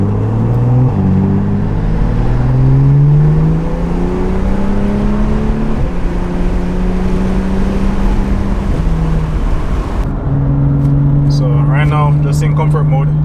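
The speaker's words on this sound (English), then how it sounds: "Alright, so we're gonna go for a quick test drive." A DCT-tuned BMW M2 on a test drive, its engine droning loudly and steadily from inside the car, pitch climbing and dropping through repeated gear changes and revs.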